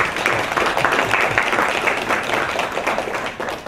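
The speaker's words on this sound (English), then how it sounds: "please join me in another round of applause for the supporting staff" Audience applause at an agriculture and food deans' meeting: a room full of people clapping briskly and steadily, fairly close, swelling slightly then tapering toward the end.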